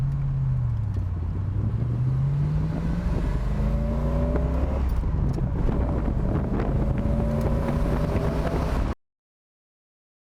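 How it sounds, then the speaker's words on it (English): A Corvette idles on new spark plugs and wires, a low steady engine hum with a gentle rising and falling tone, joined by blustery wind on the microphone, before cutting abruptly to silence near the end. "I think it's actually idling a little better than it was"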